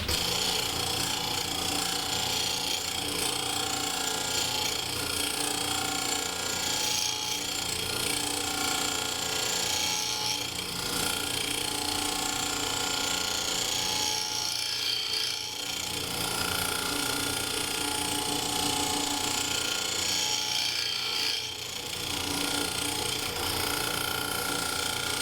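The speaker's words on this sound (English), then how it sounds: "Now I'm gonna go ahead and finish hollowing it out, and I got the negative rake on the" A wooden lidded box turning on a lathe is hollowed out with a negative rake hollowing tool, making a continuous buzzing, chattering cut with a steady motor whine throughout and brief dips where the tool lifts off.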